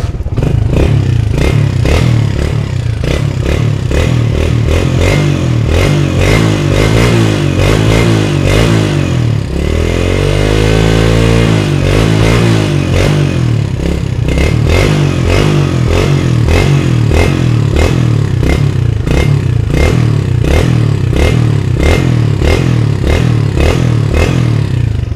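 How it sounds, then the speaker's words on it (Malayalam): A restored 2000-model Hero Honda Splendor motorcycle fitted with a Hero OE silencer revs loudly and steadily at close range, its rapid exhaust pulses rising in a sharp throttle blip midway before settling back to a busy idle. "അപ്പോൾ ഇങ്ങനെയാണ് വണ്ടിയുടെ സൗണ്ട് കാര്യങ്ങളൊക്കെ വരുന്നത് കേട്ടോ"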